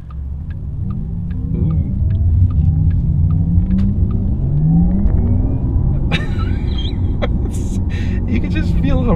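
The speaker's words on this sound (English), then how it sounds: "I'm gonna switch it over to Sport Plus. There, and now it starts making more audio noise." A Porsche Taycan Turbo S in Sport Plus mode gives off a steady, loud, close road rumble with rising synthetic drive tones and tire roar. A person briefly exclaims partway through.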